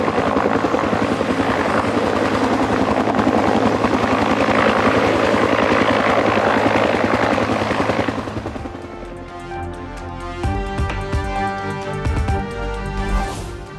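A helicopter flies over Thiranagar during a security forces search for infiltrating militants, its rotor thudding loud and steady for about eight seconds before cutting away to a quieter, different tonal sound.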